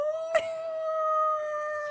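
A voice actor imitates a dog's howl in a single long, sustained, tonal wail, close and clear, preceded by a brief sharp intake.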